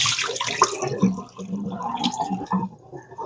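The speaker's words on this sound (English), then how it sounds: "we're going to first wash them real good" Tap water running steadily over food being washed in a kitchen sink, close and moderately loud, with splashing and dripping and no talking.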